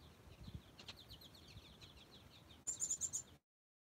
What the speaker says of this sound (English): Oh, hear the birds? Those are the goldfinches.